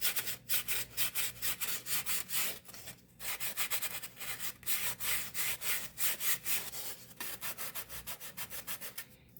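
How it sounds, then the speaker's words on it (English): Sandpaper is worked by hand over the carved wooden scroll of a violin, a close, steady back-and-forth scratchy rubbing with an even rhythm of about two strokes per second, heard alone. "take a little piece of sandpaper"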